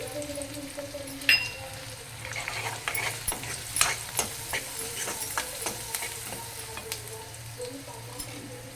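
Onion pieces fry in a pan for simple methi dal, a soft, steady sizzle running throughout with a sharp clink near the start and repeated light spoon taps and stirring scrapes.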